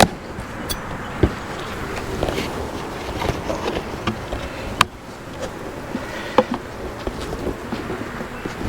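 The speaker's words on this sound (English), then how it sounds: "Lots of bees, lots of bees." Honeybees buzz around an open beehive, a dense steady drone close to the ear with individual bees whizzing past in brief louder passes; no talking.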